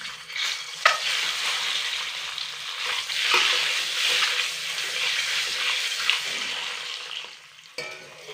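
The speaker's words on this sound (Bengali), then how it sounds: "এবার এই তেলের মধ্যে ডিমগুলোকে হালকা করে ভেজে তুলে নেব।" Eggs fry lightly in hot oil seasoned with salt and a little turmeric, a loud, continuous close-up sizzle with occasional utensil clatters and a sharp knock near the end.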